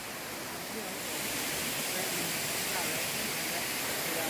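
Pang Sida waterfall in Thailand, running low on water, gives a steady broadband rush that swells slightly after the first second and then holds constant and fairly close.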